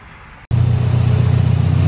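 A car engine on a dyno runs at light throttle after a sudden cut-in, settling into a steady, loud, low droning hum with a faint pulsing texture, heard alone.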